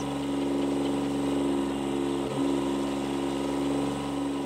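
A small tractor in Farming Simulator 22 with a top speed of about 20, its engine droning steadily at a constant low pitch while driving, with no talk.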